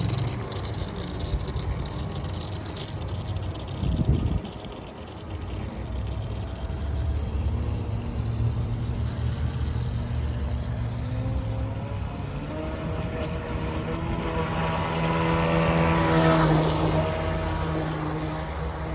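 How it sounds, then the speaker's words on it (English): A restored 1990 Kyosho Hurricane radio-controlled boat runs on water with a steady, buzzing motor drone that swells and shifts in pitch as it passes, continuous and fairly close throughout. "I know you guys just want to see the Hurricane right now, just driving a little bit."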